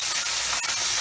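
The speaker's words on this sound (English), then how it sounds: "I'm going to go ahead and deglaze this pan right here" Beef broth poured into a hot roast pan to deglaze it, a loud, dense burst of sizzling steam hiss that stays close and continuous for a brief moment, with no talking.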